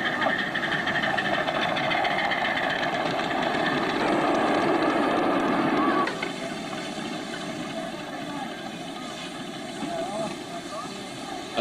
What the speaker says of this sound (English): model of a Canefields locomotive is powered by an internal combustion engine